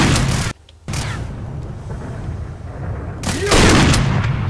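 Shotgun blasts in STALKER: Call of Pripyat, one loud close shot at the start and another near the end, with a sharp cutout and quieter ambient game noise between them.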